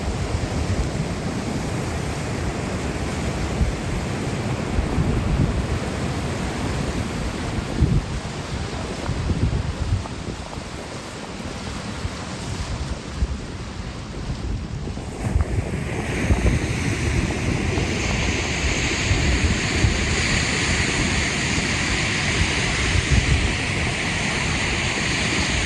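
Seaside waves wash and roll with gusting wind buffeting the microphone, a continuous loud roar that shifts midway as the wind hiss grows brighter, with no one speaking.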